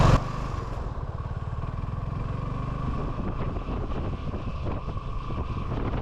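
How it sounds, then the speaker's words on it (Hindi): A motorbike engine drones steadily and loudly for the whole ride along peaceful forest roads in Dandeli, with rough wind buffeting the microphone throughout. "दांडेली के इन पीसफुल रास्तों पे बाइक राइड करके मुझे बहुत ही मज़ा आ रहा है।"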